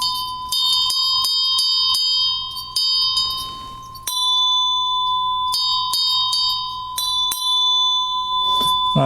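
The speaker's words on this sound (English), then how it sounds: "2 or 3 of these Meinl bells because they're really nice bells for a modern bell" A modern Meinl bell is struck again and again in an irregular rhythm, each sharp, close strike ringing with a bright, sustained tone that carries into the next hit.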